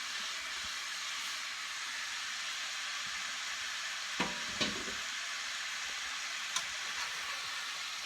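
Meat browning with onion in a pot, a constant soft hiss of frying with a few brief stirring knocks and scrapes partway through.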